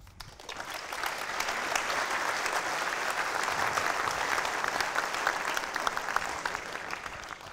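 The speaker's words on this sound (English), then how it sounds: "Thank you for that warm applause." Warm audience applause at an evening public talk on space in Manchester, a dense steady wash of clapping that rises quickly and holds evenly for several seconds.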